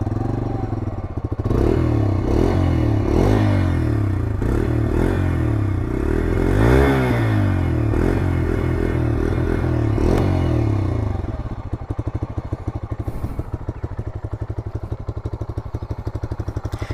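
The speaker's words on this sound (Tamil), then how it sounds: "நான் உங்களுக்கு ஸ்டார்ட் பண்ணி அதோட எக்ஸாஸ்ட் நோட் வந்து எப்படி இருக்குது அப்படிங்கிறத வாங்க பார்க்கலாம்" A Bajaj Freedom 125 CNG motorcycle, 2025 model with a 125 cc petrol/CNG engine, starts up and idles with a steady thumping exhaust beat, rising briefly in a rev before settling back to a loping idle, close and loud.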